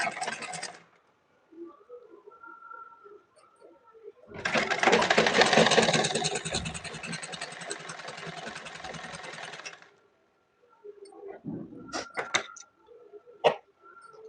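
A sewing machine stitches folded blouse fabric in one loud, steady whirring run of several seconds, framed by quieter handling noises and a few clicks before and after.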